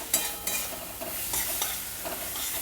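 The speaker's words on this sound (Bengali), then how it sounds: "আস্তে আস্তে এগুলো ভাজা হলে, মশলাটা যত কষানো হবে বড়ি পোস্তটা খেতে তত ভালো হবে" Bori and poppy seed paste are stirred and fried in a pan, with a steady sizzle broken by repeated scraping strokes of the spoon, close and clear, with no voices.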